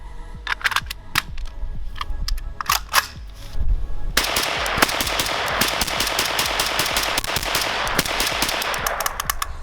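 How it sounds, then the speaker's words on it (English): An E-11 blaster rifle prop fires a full magazine dump: scattered single shots at first, then a dense, sustained stream of rapid loud bursts lasting several seconds before it tapers off at the end. "What would this be without a mag dump?"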